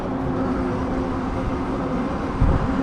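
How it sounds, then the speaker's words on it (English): A train rolls past a crossing in a steady, continuous low rumble and drone, held at an even loudness throughout with a brief thump near the end. "But the train's keeping us from going."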